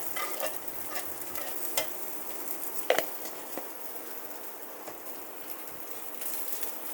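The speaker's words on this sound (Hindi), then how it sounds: "उसी में मैंने डाल दिया है ज़ीरा" Cumin seeds sizzle in a pan of hot oil left from cooking onions, a soft steady crackle with occasional sharp pops and stirring clicks, heard close without talk.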